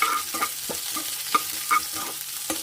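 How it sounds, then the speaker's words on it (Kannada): Garlic and onion sautéing on low heat in a pan for a healthy dal tadka, with soft frying crackle and a spoon stirring in scattered scraping knocks, no voices. "ನೆಕ್ಸ್ಟ್ ಬೆಳ್ಳುಳ್ಳಿ, ಈರುಳ್ಳಿ ಸ್ವಲ್ಪ ಎಲ್ಲ ಬಾಡಿಸ್ಕೋಬೇಕು."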